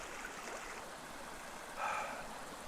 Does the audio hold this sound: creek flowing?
yes